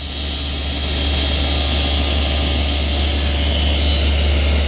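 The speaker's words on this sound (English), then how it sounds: "there's one more milling operation on the tenons, and that's to make the cheek cuts" A power saw milling cheek cuts on wooden tenons in a tenoning jig, roaring as one loud, continuous, steady whine throughout.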